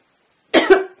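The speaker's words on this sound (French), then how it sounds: "je vais tousser, pardon." A single short, sharp cough close to the microphone after a moment of silence.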